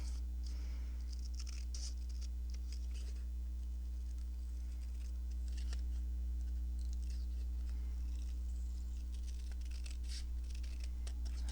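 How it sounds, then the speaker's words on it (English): Scissors snipping through paper to cut out a label for a collage journal, a series of close, crisp cuts in irregular bursts over a constant low mains hum, with no one speaking. "I think I'm just going to cut that out as if it's a label."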